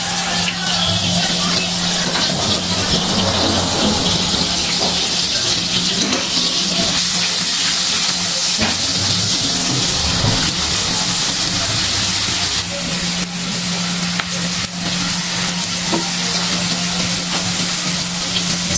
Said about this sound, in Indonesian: Tumiskan bawang putih dan bawang merah cincang, juga irisan cabai rawit hijaunya.